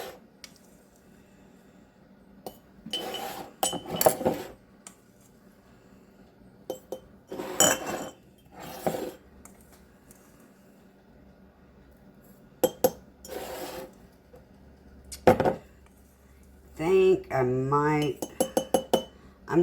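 A metal half-teaspoon clinks and taps against five glass canning jars for spaghetti sauce, bursts of bright chinks and scrapes separated by quiet pauses, with a voice speaking briefly near the end.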